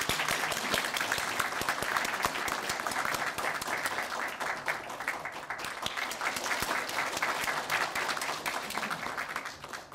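Sustained applause from an audience at a university engineering faculty professors' retirement ceremony, dense even clapping that holds steady for the full length.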